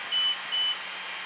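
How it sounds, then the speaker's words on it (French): A Creality Falcon 2 40W laser engraver gives two short, even electronic beeps close together, pure and steady, over faint room hiss with no talk. "l'inconvénient d'une machine qui bip sans écran, c'est qu'on ne sait pas trop ce qui se passe."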